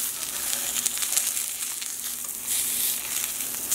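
Salmon fillet searing skin side down in a hot frying pan for a roasted salmon dish, giving a steady close sizzle and crackle throughout with a slight swell near the end and no talking.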